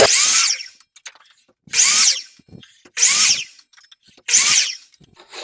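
A power saw whines through wood four times in steady, evenly spaced bursts, cutting clamped wooden pieces short for a trivet, each loud cut followed by a short pause with faint clatter.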